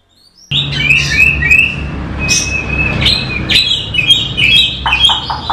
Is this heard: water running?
no